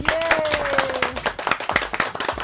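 Studio audience clapping for the production team of a Pakistani Eid special TV show: dense, steady clapping with sharp individual claps, close and loud, with a voice calling out briefly over it at the start.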